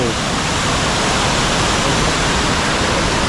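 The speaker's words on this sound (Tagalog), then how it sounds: "Yan mga kasuri ang ganda ng falls dito" Cambugahay Falls on Siquijor roars steadily and loudly up close, a dense, unbroken rush of falling water.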